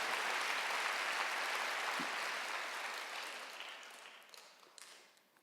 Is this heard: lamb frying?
no